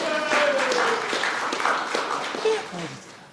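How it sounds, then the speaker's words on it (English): Audience applause follows a lightning talk at the GDHF 2025 conference, a short steady patter of many hands with a voice speaking over it. "Can we give him another round of applause?"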